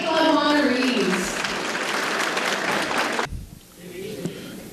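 Banquet guests at a homecoming alumni dinner applauding honorees, a dense burst of clapping mixed with a speaking voice that cuts off sharply partway, leaving a quieter tail.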